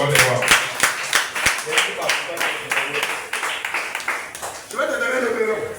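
A church congregation claps and cheers in acclamation for the king of kings, rhythmic hand claps ringing out close and lively, mixed with raised voices throughout.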